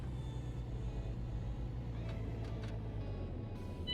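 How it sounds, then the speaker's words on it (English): Truck engine in On The Road Truck Simulator, a steady low rumble throughout with a few brief hissing air-brake bursts near the middle. "Hit the parking brake."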